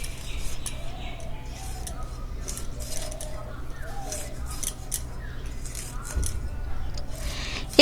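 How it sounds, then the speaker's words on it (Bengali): Vegetable stalks are finely chopped in a quick run of crisp, repeated close cuts, with a voice talking faintly underneath. "এবার কুচি কুচি করে কেটে নেব"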